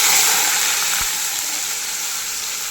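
Ground onion and tomato paste frying in hot, bubbling oil, a steady close sizzle with a faint tap partway through and no voices.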